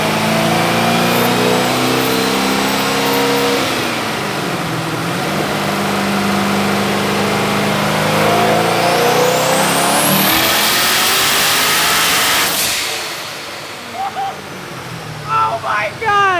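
A twin-turbo LS-swapped Corvette with straight pipes revs hard and loud up close, climbing and falling through long sweeping pulls before cutting to bursts of crackle, with excited talking over parts of it.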